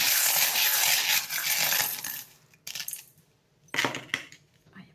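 Small charms are drawn and dropped during a card reading, giving a busy clatter of light metallic clinks at first, then a few isolated drops and jingles in near silence.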